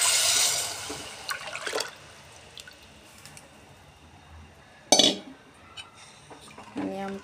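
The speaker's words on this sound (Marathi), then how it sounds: "आता हे डाळीचं पाणी आपण याच्यामध्ये घालून घेऊया" Lentil cooking water poured into a pot of sautéed spice masala and turmeric while making amti: a loud rushing pour at the start, then quiet clinks of utensils and a brief louder splash or knock near the middle.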